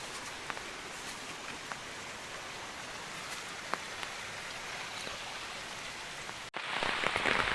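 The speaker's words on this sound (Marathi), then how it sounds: "तुम्ही पाहू शकता एवढं पाऊस आहे" Heavy rain pours steadily on a road on the way to a grandparents' village in Konkan during the Ganesh festival season, a dense continuous hiss with scattered drop hits, briefly cutting out before resuming louder near the end.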